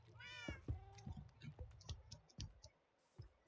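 Black cats meowing in Minecraft, a rising meow up front followed by soft game clicks and taps, faint and close.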